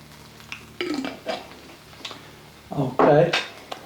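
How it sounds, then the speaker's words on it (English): Quick stir of thick jarred tomato sauce in a pot for lasagna, a few scraping clinks of utensil against the pot, with brief talk around it. "a little quick stir"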